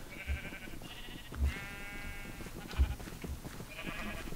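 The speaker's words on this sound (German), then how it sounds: "Die Schafe rennen, sie machen alles nieder," Sheep bleating in Minecraft: several bleats from a running flock, each a wavering tone, with soft thumps between them and one long, prominent bleat near the middle.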